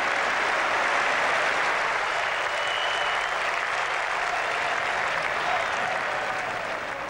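Steady, dense applause from a large cricket crowd at an England Ashes Test match in 1981, sustained and loud throughout with a slight tapering toward the end.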